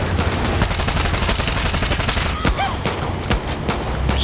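Dense, rapid gunfire in the video game Far Cry 6, sustained bursts with overlapping shots and a few louder single cracks near the end.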